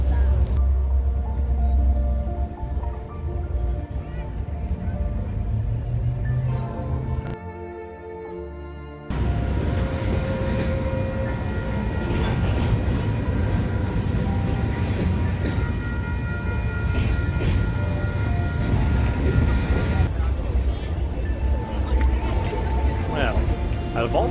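Train rolling past in Montreal on a crowded evening, a long loud rumble with rhythmic clatter, briefly cut then resuming and continuing steadily, with people talking nearby.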